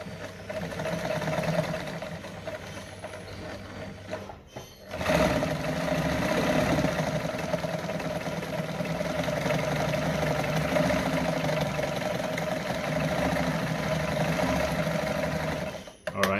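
A Brother Pacesetter Super Deluxe sewing machine sewing a zigzag stitch, with a steady mechanical whirr that runs briefly, pauses for a moment, then runs again without a break until the end.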